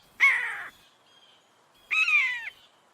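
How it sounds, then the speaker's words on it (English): A baby eagle gives two harsh, raspy calls, each about half a second long and separated by a brief silence, close and clear with no other sound. "Oh, look, it's a baby eagle."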